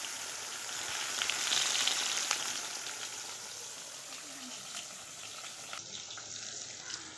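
Hot oil in a wok sizzles and hisses softly at a moderate distance, swelling briefly early on and then settling into a quieter, steady fry.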